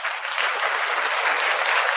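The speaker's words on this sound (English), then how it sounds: "Got to give yourself another round of applause for that" A stream audience breaks into applause, a dense, even burst of many hands clapping for two seconds, steady and fairly loud with no voices.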